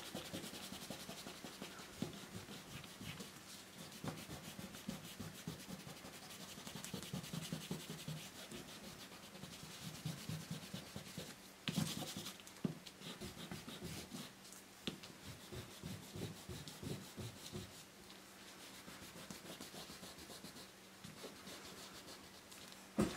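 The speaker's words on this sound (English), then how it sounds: "So now I'm going to go in here and I'm going to erase all of these pencil lines." An eraser rubs pencil lines off watercolor paper, repeated short scratchy strokes in an uneven back-and-forth rhythm, close and fairly quiet, continuing throughout with no talk.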